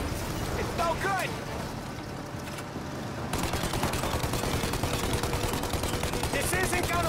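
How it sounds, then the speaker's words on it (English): Rapid gunfire in Mafia: Definitive Edition as shots are aimed at a plane's engines, a dense stream of overlapping bangs under engine noise, with voices talking over it. "Shoot out the engines!"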